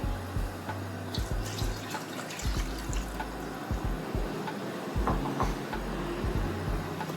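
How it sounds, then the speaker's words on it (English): Fresh milk poured into a pot of roasted chicken and mushroom soup, a steady close liquid trickle and splash with faint dripping, no talk. "I'm gonna add my fresh milk now"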